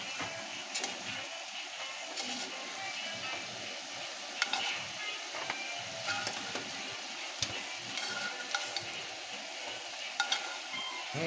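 Steak bites searing in a pan, the second batch, for garlic butter steak bites: a steady close sizzle and crackle runs throughout, with occasional small clicks of stirring or utensil contact.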